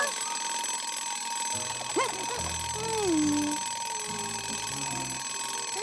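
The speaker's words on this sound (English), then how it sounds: "This timer will help us stay on time." A loud electronic timer alarm rings in a cartoon scene, sounding as a steady ringing tone across the whole stretch, with brief swooping cartoon sounds mixed in.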